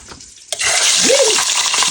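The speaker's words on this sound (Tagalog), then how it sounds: "Kahit na frozen pa siya, pwede mo na siyang iprito." Frozen food drops into hot Salad Master cookware, a sudden loud hiss that bursts in and then holds as a steady close sizzle, with a brief low voice sound partway through.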